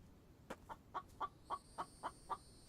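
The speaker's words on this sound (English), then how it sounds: "I hear you, chicken." A chicken clucks in a steady series of about eight short, evenly spaced clucks, fairly close and moderately loud, with no talking over them.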